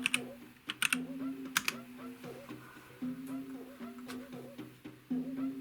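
Typing on a computer keyboard, quick irregular bursts of key clicks, close and fairly soft, with a tonal hum running underneath.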